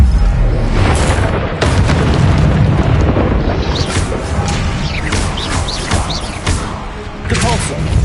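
Expelliarmus and other spell effects in the Hogwarts Legacy video game, heavy booming blasts and bursts layered over dense combat noise, loud and continuous with several sharp impacts, speech mixed in.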